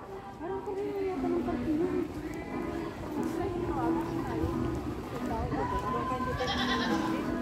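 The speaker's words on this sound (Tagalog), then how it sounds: "Ah, may kambing." Goats of mixed black, brown and white colouring bleat repeatedly in an outdoor garden farm area, close and fairly loud, while people talk throughout.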